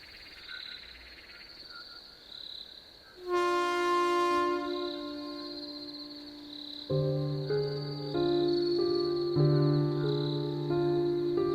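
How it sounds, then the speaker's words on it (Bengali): A cartoon train pulls into a platform, sounding a long, loud horn with sustained tones that come in bursts and change pitch, after a quieter start of chirping, cricket-like night ambience. "বেশ কিছুক্ষণের মধ্যে একটা ট্রেন ঢুকলো প্ল্যাটফর্মে"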